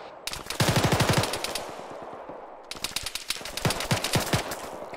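Bursts of machine gun fire in the military shooter ArmA 3, two long rapid strings of loud shots separated by a short pause, with scattered distant gunfire between them.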